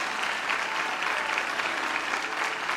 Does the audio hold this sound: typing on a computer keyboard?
no